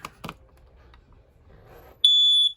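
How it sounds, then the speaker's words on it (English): A few soft knocks, then a loud, steady high-pitched electronic tone from a smoke detector inside a 2007 Cruiser 30SK travel trailer sounds for about half a second and stops abruptly, like a smoke alarm chirp. "We got your smoke detector here"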